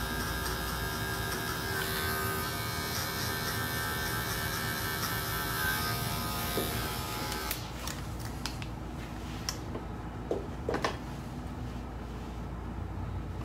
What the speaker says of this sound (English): I'm gonna show you how I do a little texture work with my clipper as well